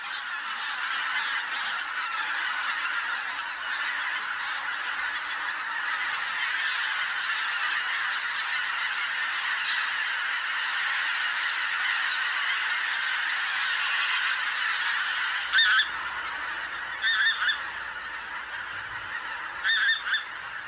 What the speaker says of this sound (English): In October, thousands of bean geese and greater white-fronted geese descend on the Morava's banks.